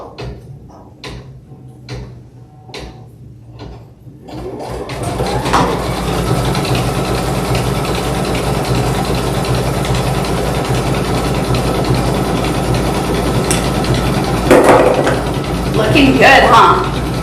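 An embroidery machine stitches a quilt appliqué block, starting with a few separate clicks and then settling into a continuous mechanical whir with a rapid needle rhythm, steady and fairly close, while a voice talks over it near the end.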